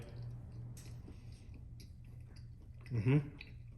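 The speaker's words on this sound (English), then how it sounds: "I'm gonna take a bite and see what I think" Close, soft chewing and biting on a slice of pizza cooked in an Emeril Lagasse Power Air Fryer 360. A low steady hum sits underneath, with a brief louder crunch near the end.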